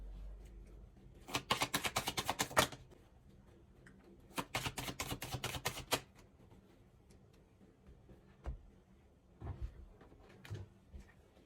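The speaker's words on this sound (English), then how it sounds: "I'm just going to pull some cards for you and let them fall out" Tarot cards being shuffled, two quick riffling bursts of rapid fluttering card flicks close up, followed by a few soft separate taps as cards drop out onto a surface, otherwise quiet.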